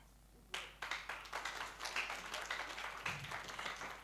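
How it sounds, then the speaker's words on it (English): A church congregation claps during a Sunday service, a dense, steady round of rhythmic clapping that starts suddenly and continues, moderately distant and fairly quiet in a reverberant hall. "all those who are clapping"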